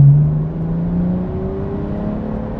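A tuned BMW 430d with an N57 diesel, GTD2873VR turbo upgrade and extra fuelling, rated around 454 bhp, pulls at full throttle from 2000 rpm in a manual gear, a loud, close, steadily rising engine drone.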